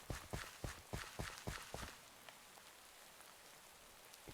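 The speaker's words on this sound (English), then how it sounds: "It's been raining too much" Rain falls in the Minecraft video game, a steady soft hiss throughout, with a series of regular thumping steps at the start that fade after about two seconds.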